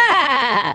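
A single loud, close sheep bleat with a wavering, quavering tone lasts under a second and cuts off abruptly.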